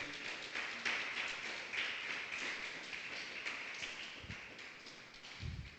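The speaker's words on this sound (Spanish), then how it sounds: "Dele un aplauso al Señor en esta noche." A church congregation claps together during an evening service, a dense, steady wash of applause heard faintly from a distance, with a few sharper taps near the end.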